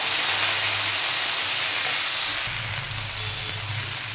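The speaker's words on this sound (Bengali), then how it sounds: "এগুলো আরও ভালো ভাজা হবে।" Mixed winter vegetables, including cauliflower and potatoes, fry in a pan with a steady, even sizzle and hiss that continues throughout and grows slightly louder partway through.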